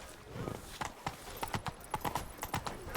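Hoofbeats of the horse Roach in the video game The Witcher 3, a quick, rhythmic clip-clop of hooves on hard ground, close and clear, with faint background sounds.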